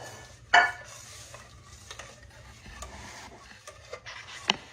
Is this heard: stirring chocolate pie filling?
yes